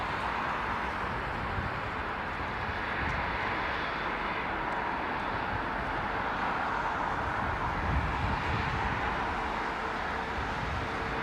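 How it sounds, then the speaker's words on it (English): Boeing 777 jet engines at London Heathrow keep up a steady, loud whirring roar with a broadband rumble and a faint high whine, unbroken for the whole stretch and free of talk. "Now listen to the engines whirring away on this 777, man."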